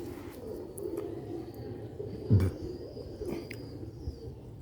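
Sialkoti rooftop pigeons coo softly in low rounded murmurs against quiet background noise, with one louder thump partway through.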